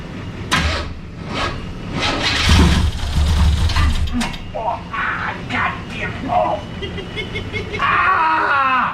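A 1984 Chevrolet Monte Carlo engine cranks with a grinding, ratcheting starter, then catches and runs roughly while people shout and exclaim loudly over it.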